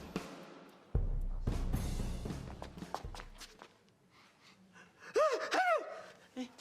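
Someone gasps and sneezes loudly in a comedy sketch spoofing an allergy-medicine commercial, followed by scuffling footsteps and a short, sharp vocal squeal near the end.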